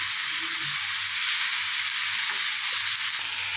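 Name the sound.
sautéing chopped cabbage in a pan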